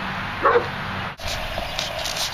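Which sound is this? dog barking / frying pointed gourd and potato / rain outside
dog barking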